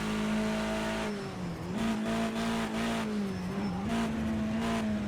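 A BMW 320 TC (E90) touring car in the Project Cars 2 racing game at Bathurst holds a loud, steady engine drone that dips and recovers as the car slides sideways, with faint tire scrub under the motor.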